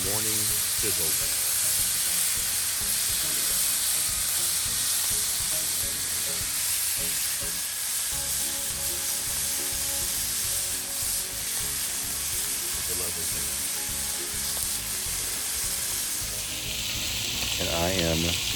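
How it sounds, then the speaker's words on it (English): Ham frying in a pan for breakfast, a continuous close sizzle and spitting of fat with occasional stirring, while a person talks quietly over the cooking. "I got the ham. Making sure it doesn't burn."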